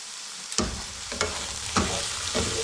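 Mushrooms frying in a pan for a soft cheese and mushroom curry, a steady sizzle broken by four evenly spaced stirring scrapes, close and without talk.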